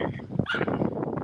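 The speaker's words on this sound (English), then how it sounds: "Look at that dog." An angry dog barks and yips in a quick, dense flurry, close and fairly loud, with the sounds running together over a brief moment.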